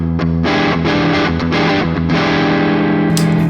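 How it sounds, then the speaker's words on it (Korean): Distorted electric guitar with neck pickup in parallel mode, an Enya Sonic JT, strumming chords in a steady, loud riff with a slightly thinner, brighter tone, playing alone. "먼저 병렬 모드의 소리 들어보겠습니다."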